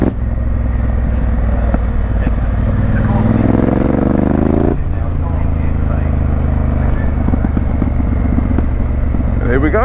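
A Honda Africa Twin motorcycle rides along with a loud, steady engine drone and rising revs, wind rumbling close by while a rider talks over it.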